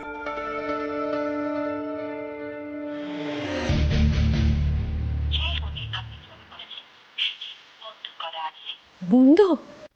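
A phone plays a steady tone, then a burst of ringing and dialing tones. Short beeps follow over a quiet room, and a voice speaks briefly near the end.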